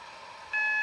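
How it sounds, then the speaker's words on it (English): A steady electronic AWS alarm tone sounds in the cab of a Class 380 train in a railway simulator game, starting abruptly halfway through over a quiet hum and holding clear and constant. "the sound of that AWS"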